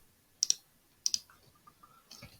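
Computer keyboard keys pressed for a Ctrl+C copy shortcut, two pairs of sharp close clicks in quick succession followed by faint light tapping, no talking.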